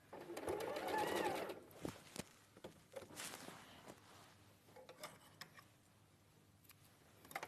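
A sewing machine runs close up, stitching near the fabric edge in a quick whirring burst, then stops for scattered clicks and handling sounds, with quiet talk in the background.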